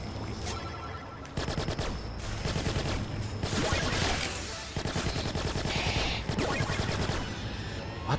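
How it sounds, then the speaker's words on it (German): Rapid automatic gunfire from a weapon in the video game Watch Dogs, bursts of fast repeated shots broken by brief pauses, loud and close over the game's background sound, no talking. "Schießt zwar schneller, aber ist nicht wirklich stärker, die Waffe."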